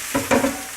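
A sauce stirred in a frying pan while cooking cherry pork chops: three quick scraping strokes of a utensil across the pan over a soft sizzle, close and alone.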